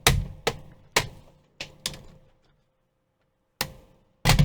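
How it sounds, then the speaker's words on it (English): Sharp plastic clicks and cracks from the case clips of an HP 15-G255sa laptop being opened, about seven separate snaps spaced irregularly with short quiet gaps between, close and crisp. "you should be able to hear the plastics clicking and cracking"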